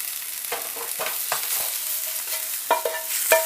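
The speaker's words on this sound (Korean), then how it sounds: "양파 살짝 볶으시다가 시금치 넣어주세요" Onion and spinach stir-fried in a pan, a steady bright sizzle with repeated scraping and clacking strokes of the utensil, close and alone.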